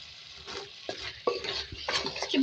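Chicken and long-cut potatoes seasoned with salt are stir-fried in a pan: a quiet sizzle sits under several distinct scrapes and metallic clinks of a utensil tossing the pieces, in irregular bursts close by.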